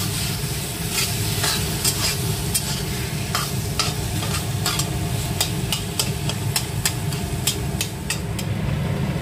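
A spoon stirs prawn curry with bottle gourd in a frying pan over a steady sizzle, with repeated scraping clinks against the pan in an uneven rhythm, close and continuous.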